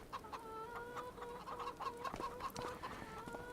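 Chickens in a farming video game cluck and chatter in short repeated bursts over a soft steady ambient background, fairly close and moderately loud, with no talk.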